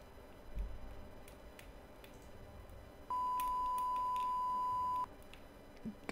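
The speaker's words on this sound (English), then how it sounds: "Trying to not censor beep or censor bleep" A steady, pure censor bleep tone sounds for about two seconds at a constant pitch, clean and loud above a quiet background with faint clicks before and after.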